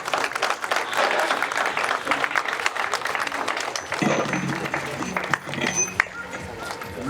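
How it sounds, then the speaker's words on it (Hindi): An audience at a staged Prithviraj play claps loudly and densely for the performers for about four seconds, then the applause fades under someone speaking over the hall. "एक बार जोरदार तालियां इन सब के लिए।"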